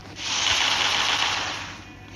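Rapid automatic gunfire in a shooting video game rattles out in one continuous close burst lasting about two seconds, with no talk over it.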